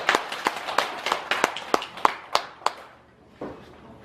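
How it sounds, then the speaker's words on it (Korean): A small group at a Buddhist study session claps together in a brief round, with about ten sharp, close claps in an even rhythm that thin out and stop. "박수 한번 해주세요."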